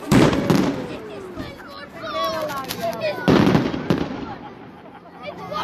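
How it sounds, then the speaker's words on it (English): Fireworks go off on Fireworks Night at The Three Pilchards in Polperro, with two loud crackling bursts, whistling trails and scattered pops between them, and voices murmuring in the background. "I like fireworks."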